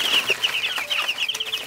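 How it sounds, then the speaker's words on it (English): Young broiler chickens, newly let out as chicks, peep and cluck close by in a busy, continuous stream of high chirps with small overlapping calls, moderately loud and with no talking. "Do you want to see my chickens?"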